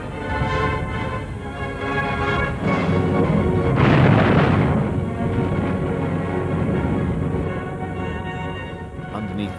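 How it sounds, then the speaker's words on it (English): A battery of 105mm howitzers fires in archival wartime footage, heard as a dense rumbling barrage with a heavy boom swelling in the middle, muffled and mixed with background noise. "a battery of 105mm howitzers opens fire"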